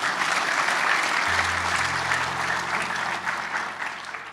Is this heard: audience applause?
yes